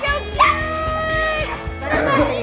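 Little puppies yip and bark close by at a Halloween trick-or-treat visit, short high barks mixed with excited voices and children's chatter.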